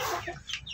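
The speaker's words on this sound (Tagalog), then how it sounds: "malaking manok to" A large hen gives a brief, soft cluck or two, close by and fairly quiet, lasting under a second.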